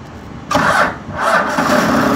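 A forklift engine cranks and catches on the ignition, loud and close, with a short cranking burst followed by the engine firing up and settling into a running rumble.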